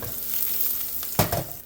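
Eggs fry in a hot pan, giving a steady close sizzle that bursts into a sharper, louder crackle about a second in, as if more egg hits the hot surface.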